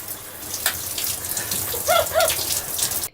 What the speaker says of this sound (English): I love our shower, look at that water pressure.